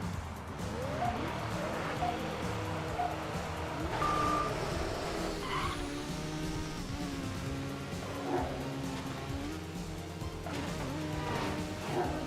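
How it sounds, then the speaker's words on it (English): Lamborghini Murcielago race cars driving in Midnight Club 3, engine notes rising and falling steadily with occasional tire squeal and beeping game effects, continuous and moderately loud. "Whole field of Lamborghini Murcielagos."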